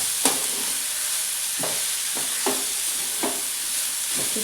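Spring onion greens stir-frying in a pan with a steady sizzle and hiss, broken by several scraping stirs at irregular intervals, close and moderately loud.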